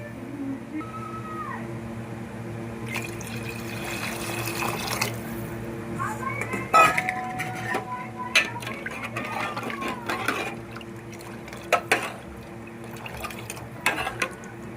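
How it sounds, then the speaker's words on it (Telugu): Water runs steadily into a pot of yogurt, turmeric and salt at close range, with faint clinks of cookware and soft background noise. "వాటర్ వేసుకుందాం."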